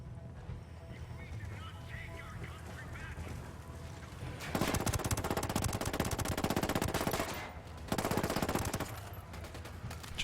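Sustained machine gun fire rattles in Ghost Recon Wildlands, starting faint and distant, then bursting loud and close in two long rapid volleys separated by a short pause, with someone talking over it.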